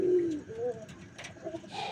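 A male Coca pigeon coos close by in a loft, giving a few short, low throaty calls within two seconds against quiet background sound.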